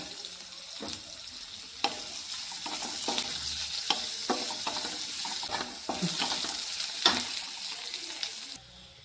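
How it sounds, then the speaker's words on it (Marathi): Chopped onions sizzle and fry in a pan while a spoon stirs them, with steady crackling and repeated scraping strokes. The sound is close and moderately loud, and no one speaks. "चिरलेले दोन कांदे आहेत ते टाकून घेते आणि ते चांगले गुलाबीपर्यंत आपल्याला परतून घ्यायचे आहेत"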